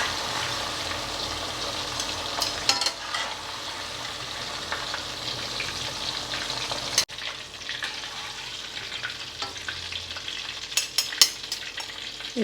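Drumstick pieces sizzle in hot oil while being fried for pickle, a steady close-up hiss with sharp crackles and pops, briefly interrupted by a cut midway before continuing.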